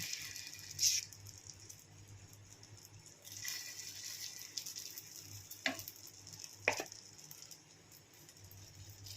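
A semolina breakfast pancake sizzles softly in a pan, a faint continuous frying hiss punctuated by a few sharp clicks and light rattles of utensils, with no talking.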